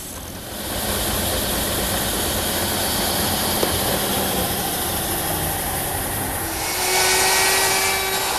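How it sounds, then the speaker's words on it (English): Wooden wheel held against the spinning sandpaper of a sander, a continuous loud whirring grind that shifts tone near the end as the wheel is turned, with no talk. "I bring the wheel towards the stop, into the sandpaper, and then spin it around, giving me a perfect circle."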